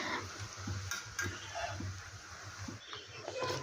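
Dal and potato pakoras fry gently in oil over a low flame, giving a steady soft sizzle with occasional stirring clinks and scrapes throughout.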